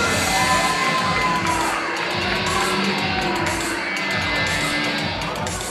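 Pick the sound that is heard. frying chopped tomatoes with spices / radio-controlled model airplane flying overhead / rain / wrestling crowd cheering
wrestling crowd cheering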